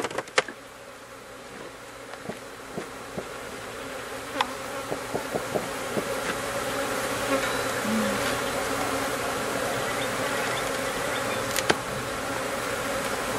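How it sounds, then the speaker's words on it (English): Many bees buzz in a steady, dense drone at a honey-harvesting session, with a few sharper clicks and knocks near the start and a brief tap later, no one speaking. "So many bees."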